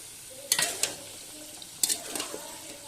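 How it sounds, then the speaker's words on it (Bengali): Mixed vegetables frying in a pan are stirred with a utensil, two clusters of scraping clinks over a gentle sizzle, close and fairly clear with no talking. "সমস্ত সবজি আমি দিয়ে দিয়েছি, দিয়ে এবার আমি ভালোভাবে নাড়বো।"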